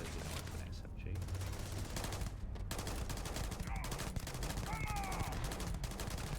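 Rapid bursts of SMG fire in the video game Starfield, dense fast crackling shots mixed with game effects and a voice talking over it.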